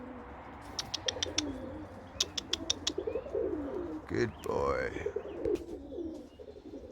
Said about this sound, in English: Hey, big pigeon. You big pigeon.